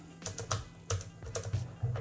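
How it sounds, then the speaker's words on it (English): Buttons on a Moza MTQ flight-sim throttle are pressed one after another, giving a handful of sharp, close clicks in an irregular rhythm over a low hum. "Nice proper clicky buttons."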